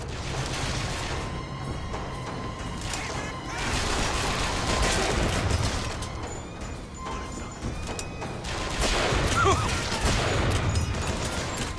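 Sniper rifle fire in the video game Bioshock Infinite, dense bursts of gunfire and booms layered over loud, continuous game combat noise across the whole stretch.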